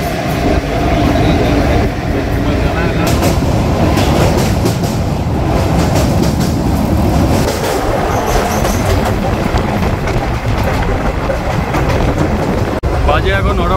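Inside a moving passenger train travelling from Kolkata, a loud continuous rumble with rhythmic clickety-clack of the wheels on rails, carriage noise filling the whole stretch.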